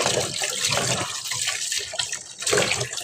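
Tap water running over cauliflower being washed in a kitchen sink, a steady close splashing and trickling with uneven bursts as the florets are rinsed by hand.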